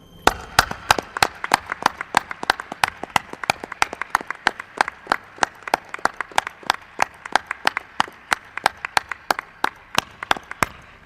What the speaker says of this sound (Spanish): Que estoy seguro que es el aplauso más grande que le han dado a Rosso de Luna